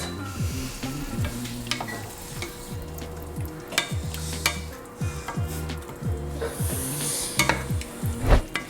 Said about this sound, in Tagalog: ilagay nyo na tong chicken liver pati yung pinagbabaran. Haluin nyo lang to guys.